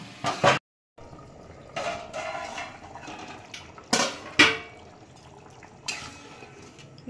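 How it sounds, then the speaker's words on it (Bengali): Water goes into a pan of spiced potatoes for a prawn curry, splashing and hissing in short bursts with clinks of a utensil against the pan between them. "এবারে আমি জল দিয়ে দিচ্ছি"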